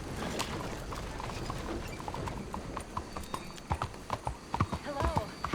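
Horse hooves clip-clop in a steady trot in the video game Red Dead Redemption 2, growing louder and sharper toward the end, with people talking underneath.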